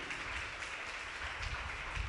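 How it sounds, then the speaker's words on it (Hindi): Congregation applauding during a sermon, a steady wash of many hands clapping at moderate distance, continuous and even throughout. "जोरदार तालियां खुदा के जलाल के लिए"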